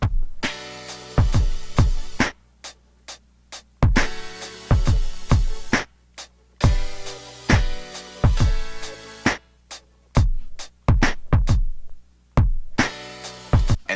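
Electronic track section built from piano, synth chords and sharp stabs, playing in choppy bursts with repeated punchy low hits between gaps of silence, loud and close with no voices.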